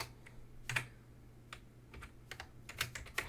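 Quick bursts of keystrokes on a computer keyboard as car brand names are typed, light irregular clicks close up in a quiet room.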